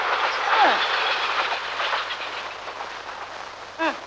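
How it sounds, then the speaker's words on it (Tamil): A train passes with a continuous rolling rumble and rattling wheel noise, loud and fairly near, with a short tonal sound near the end. "கிழக்கே ரயில் கூட வந்துருச்சு"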